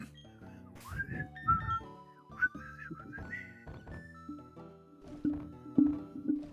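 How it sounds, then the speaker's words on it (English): Someone attempts a tune by ear, whistling a wavering melody of short, bright notes at moderate volume over steady background music during a Pokémon Platinum game session. "I'm not good at whistling, I'm sorry."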